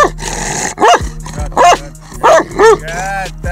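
A Caucasian shepherd dog barks loudly and close by, about five deep barks with growling in between, while a person talks over the noise.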